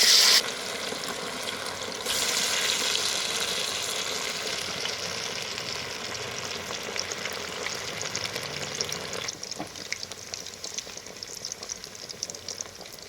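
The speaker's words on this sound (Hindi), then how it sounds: "ऑयल हमने अच्छी तरह गर्म कर लिया है और फ़िश इसमें डाल देंगे।" Marinated fish hits hot oil with a loud burst of sizzling, then settles into a steady, bubbling fry that continues alone for the rest of the stretch, a little quieter toward the end.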